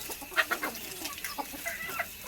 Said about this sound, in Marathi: ही कोंबडी आहे, ही खुडूक कोंबडी आहे.